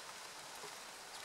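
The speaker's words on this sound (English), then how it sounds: "Apologies for the rain on the camera" Rain pattering on a camera beside a Mercedes CLA 180 Shooting Brake, a steady soft hiss of drops that stays faint and even throughout, with no voices.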